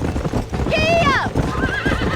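A horse in the Red Dead Redemption video game whinnies loudly with a rising-falling neigh, heard over steady hoofbeats and ambient game noise, with a short voice line following.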